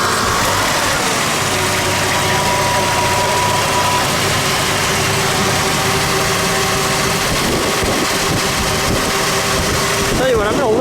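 A 1962 Ford Galaxie police car with a single exhaust runs at a steady, rumbling idle close by, while a person talks over the engine.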